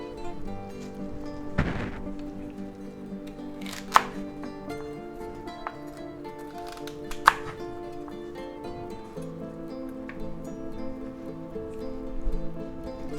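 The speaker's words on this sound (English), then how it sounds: "let's just go ahead and chop up our celery. We'll cut the ends off here" A knife chops celery, cutting off the ends: a few sparse, sharp chops against a board, spaced several seconds apart over a quiet background.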